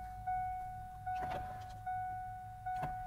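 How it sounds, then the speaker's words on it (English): A car's electric power window motor whirs in repeated short bursts, three or four pulses a few seconds apart, with a steady tonal hum underneath inside the vehicle. "Let me go and let up this window"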